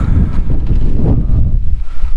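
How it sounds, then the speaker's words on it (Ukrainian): Wind buffets a microphone outdoors in a garden or orchard, a loud continuous low rumbling roar with gusty fluctuations and no speech. "ой боже, вітер"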